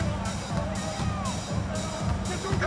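Low murmuring babble of a hostile arena crowd at a simulated NBA basketball game, Phoenix Suns on the floor, a steady dull roar with faint rhythmic rumbling beneath it.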